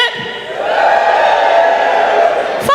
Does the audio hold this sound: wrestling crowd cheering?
yes